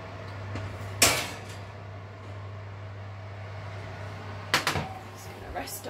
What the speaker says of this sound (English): I'm just going to carefully open the oven, get the tray out.